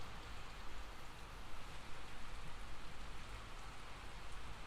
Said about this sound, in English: It rained today